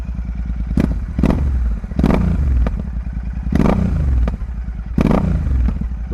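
Royal Enfield Super Meteor 650 twin with double exhaust pipes, idling loud and close, then revved in repeated blips about a second apart, each followed by crackling, popping exhaust overrun.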